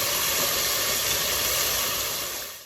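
Chicken breast steaming in a pan with butter and a little water gives a steady, loud, close hiss that holds evenly and then tapers off at the end.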